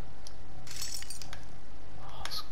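Shards of broken glass clink and tinkle in a cluttered, abandoned painter's workshop in the horror game Layers of Fear, with a few short bright bursts over a low ambient hum.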